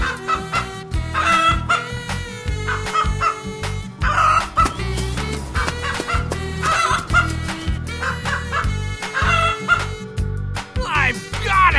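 Loud, close chicken sounds in a cartoon painting game, with repeated clucks and crowing-like calls over a bouncy music bed and no speech.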